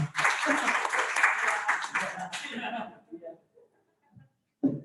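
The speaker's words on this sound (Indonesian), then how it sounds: "tepuk tangan lagi ya" A crowd at a Pertamina group meeting applauds in a dense burst for a couple of seconds, then thins out into scattered sounds and quiet. A voice can be heard over the clapping.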